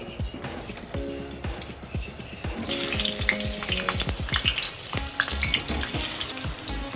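Potatoes go into hot mustard oil and fry with a bright, crackling sizzle. The frying swells louder midway and continues steadily, with scattered utensil knocks.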